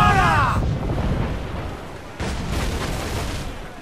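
Ship cannons firing during a naval battle in Assassin's Creed IV Black Flag: a heavy booming blast up front, then a rumbling roar that swells again midway, loud and dense throughout.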